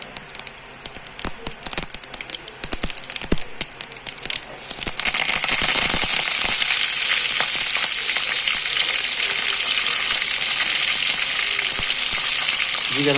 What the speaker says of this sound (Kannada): ಸಾಸಿವೆ ಸಿಡಿಲಿಕ್ಕೆ ಸ್ಟಾರ್ಟ್ ಆಗುವಾಗ ನಾವೀಗ ಕರಿಬೇವಿನ ಸೊಪ್ಪನ್ನು ಆ್ಯಡ್ ಮಾಡಲಿಕ್ಕಿದೆ.